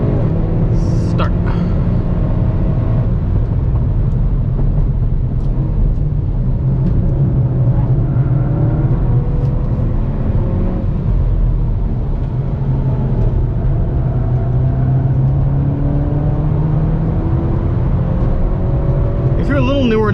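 A car engine drones steadily and loudly throughout while accelerating on a race track at Gingerman Raceway, pitch rising and falling as it revs through gears, with a voice occasionally talking over it.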